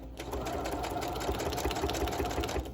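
A sewing machine stitching tags at a craft table, a fast, even mechanical chatter running close and steady for nearly three seconds with no gaps.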